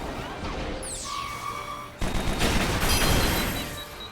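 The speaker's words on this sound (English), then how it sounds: "Let's go ahead and do an airstrike." Airstrike explosions in the video game Fuga 2 start with a whistling descent and then a burst of loud, rolling crashes and booms that keep going, with no talking.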